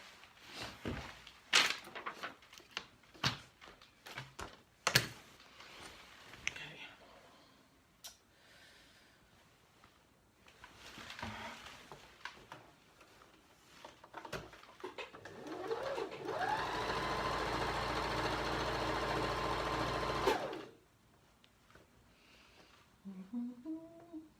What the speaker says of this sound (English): Put the two together and I'm going to sew here